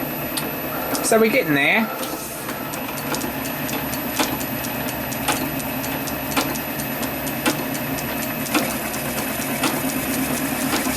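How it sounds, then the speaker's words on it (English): A milling cutter held in a lathe chuck machining a flat on a model engine cylinder, with a steady whirring machine drone and faint rhythmic ticks; someone speaks briefly early on. "I'm going to put a milling cutter in the chuck now, and we're going to put a flat on this side."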